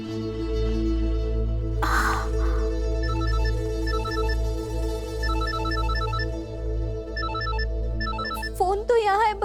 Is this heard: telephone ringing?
yes